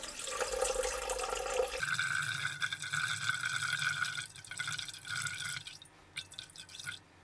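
Tap water runs and pours into a mixing bowl on a scale while 360 grams are measured out for homemade thin, crispy pizza dough. The stream is steady and near, and its pitch shifts partway through as the bowl fills.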